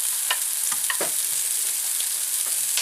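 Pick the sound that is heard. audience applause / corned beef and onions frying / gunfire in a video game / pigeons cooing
corned beef and onions frying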